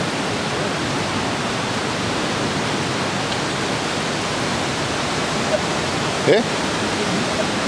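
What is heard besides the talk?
waterfall in Smoo Cave, Durness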